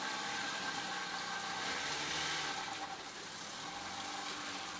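Boat motor running smoothly after loose screws were fixed, out on Lake Panasoffkee, a steady mid-pitched engine drone with a slight dip in level partway through, no talk.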